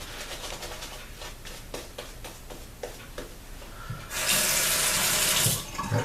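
A bathroom tap runs water while shaving lather is being prepared for a straight-razor shave, first faint ticking and tapping, then a steady loud rush of running water near the end.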